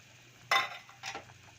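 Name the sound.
food boiling in a pot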